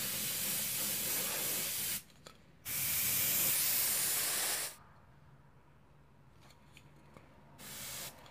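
A nearly empty can of dry shampoo gives a few loud, close hissing spray bursts, two long and one short, that sputter out between them, with no speech.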